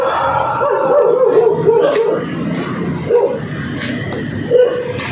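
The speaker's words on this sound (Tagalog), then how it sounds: "aso na yan, no?" A dog barks and yips repeatedly in short bursts outdoors, close and loud, with a background of people's voices.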